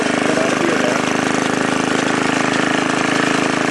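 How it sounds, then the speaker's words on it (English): The small engine of a 1953 Sears Craftsman reel power mower runs at a steady pace, giving a loud, close, buzzing drone with a fast regular pulse. "Real mowers is a much better way to mow the grass."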